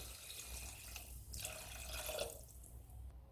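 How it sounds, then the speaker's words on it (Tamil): Water left from boiling vegetables pours into a Chettinad jackfruit curry pan, a soft liquid splash and trickle over a low steady background, with brief drips. "காய் வேக வச்ச தண்ணியை சேர்த்துறேன்."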